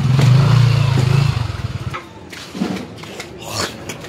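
A motorcycle engine drones loudly up close for about a second and a half, then pulses and fades as it passes away, leaving faint scattered clatter behind.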